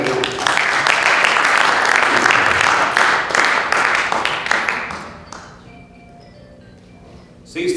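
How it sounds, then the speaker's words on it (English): Conference attendees give a volunteer a round of applause: loud, dense clapping for about five seconds that fades out, followed by a quieter stretch with a phone ringing tones in the background. "I want you to give him a round of applause"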